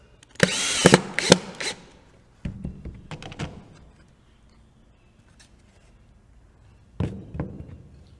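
A power drill drives a screw to fasten a turned wooden foot made from pallet block onto a plant stand, with two loud bursts of whirring and a third later, separated by quiet handling.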